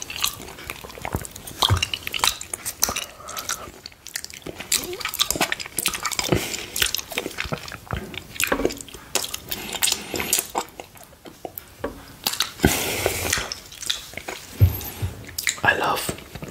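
Someone licks sweet condensed milk off a plate up close, producing wet, sticky smacking and slurping sounds that continue steadily with brief pauses.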